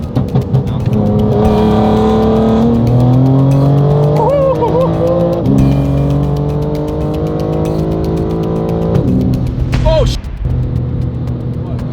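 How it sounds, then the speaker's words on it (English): A BMW M4 on rolling anti-lag revs hard from a 60 mph roll, its engine note climbing in pitch several times. The sound holds loud and close for about ten seconds, then cuts off abruptly, with voices shouting over it. "we're gonna try rolling anti-lag, 60 roll."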